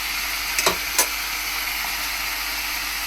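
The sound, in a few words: frying and stirring bhaji in oil before adding spices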